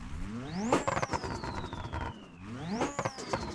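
A Group 5 race car engine with exaggerated turbo sounds revs up twice, each rise capped by a whistling turbo spool and blow-off flutter, heard at moderate level without talking.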